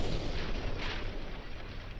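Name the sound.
warship guns firing in Ultimate Admiral Dreadnoughts video game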